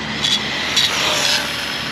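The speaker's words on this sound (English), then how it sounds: "All right, let's get one more flyby." A Traxxas Rustler RC car passes at full throttle, a loud, close electric whine that swells briefly over steady outdoor noise, with no talking.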